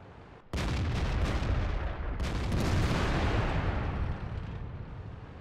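Tank cannon shots in the World of Tanks game: a sudden loud blast, then a second burst about two seconds later, each trailing into a long rumbling roar that fades toward the end.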